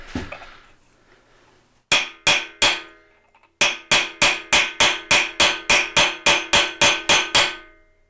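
A hammer drives a socket onto a freeze plug in a Pontiac engine block, three ringing metallic strikes, a pause, then a steady run of evenly spaced loud blows, each with a short bright ring.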